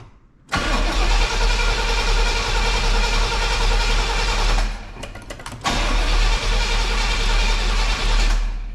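A 1980 Pontiac Trans Am with a swapped-in 400 V8 cold-starts after sitting overnight, catching abruptly and running loud and rough, stumbling briefly midway before revving back up to a steady idle.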